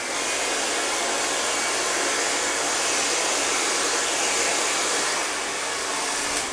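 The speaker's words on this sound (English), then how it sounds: "now I'm going to blow dry this out with a Denman brush to get it nice and smooth and straight" Hair dryer blowing steadily while curly hair is blow-dried straight with a Denman brush, a loud, even, close-up whoosh that holds without pause.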